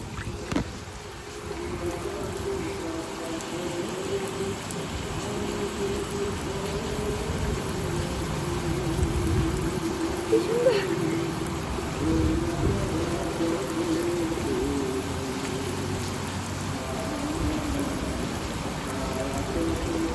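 Steady heavy rain pouring down on a rooftop, a constant wash of drops on surfaces with a faint low rumble underneath.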